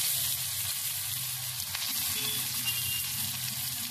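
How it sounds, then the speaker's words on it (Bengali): Chopped onion dropped into a pan of frying garlic for an egg curry, sizzling steadily and loudly up close with faint stirring, no talking. "আর এবারে দেবো কেটে রাখা পেঁয়াজ।"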